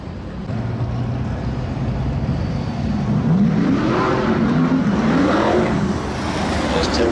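A Ford Mustang launches down a 100 ft drag strip at a Seekonk Speedway car show, its engine revving hard in loud rising and falling pitch sweeps over a steady crowd-and-track rumble.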